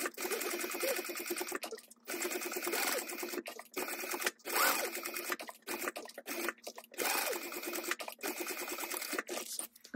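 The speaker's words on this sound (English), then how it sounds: "I'm gonna match the centers up and baste around." A sewing machine bastes fabric panels of a hydro pouch together in short stitching bursts broken by brief pauses, steady mechanical whirring close by.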